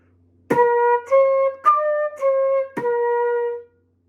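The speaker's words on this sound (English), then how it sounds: "For flute beatbox, that may sound like this." Flute notes played with sharp, percussive breath attacks, each of five notes starting with a punchy air burst like a beatbox accent, then sustained.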